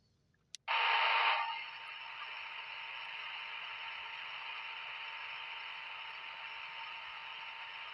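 Walkie-talkie static during a spirit box session, a sharp click followed by a loud, steady burst of hiss that eases slightly and then drones on evenly, with no voices.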